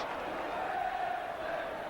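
A football stadium crowd roaring and cheering in a broad, sustained wash of voices during a 1989/90 Liverpool match, with faint speech over it.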